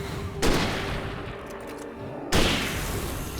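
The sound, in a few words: gunfire in video game Alan Wake Remastered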